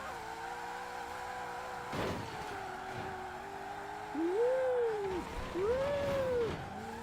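A 1900-horsepower drag-built Mustang in the racing game Forza Horizon 4 drones along at a steady engine note, then two rising and falling revs swell near the end.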